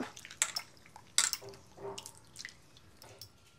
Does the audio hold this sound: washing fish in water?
yes